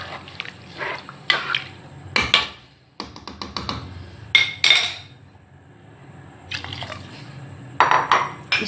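Water is poured in several separate bursts, splashing and trickling into a metal pressure cooker with clinks of the vessel between pours, while cooking shola khichdi with dal.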